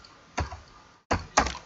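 A few keystrokes on a computer keyboard, three separate taps in close succession, crisp and near, with quiet gaps between and no talking.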